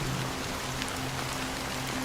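Rain falls steadily as a dense, even hiss of drops on a surface, continuous and fairly loud for the whole stretch, with a faint low hum beneath and no voices.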